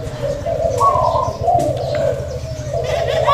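A dove coos in a low, repeated rhythm, loud and close, with a few light chirps from other birds mixed in.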